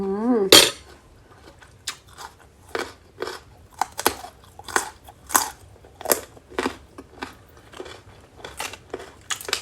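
Someone eats crunchy fresh vegetables with Sarakham-style pork larb, giving a string of close, crisp bites and chewing crunches spaced roughly every half second, with a sharp clatter at the start.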